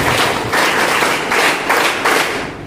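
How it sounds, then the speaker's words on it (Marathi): A crowd claps at a school welcome ceremony for new students at a secondary school, a loud, dense burst of applause that swells in waves and fades slightly at the end. "टाळ्या वाजवा"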